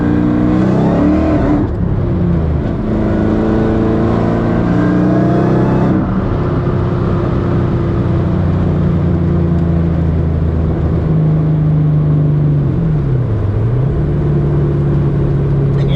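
A loud Ford Cobra engine drones and revs close by, pitch climbing and dropping as it shifts through gears while driving; the engine has a spark fault.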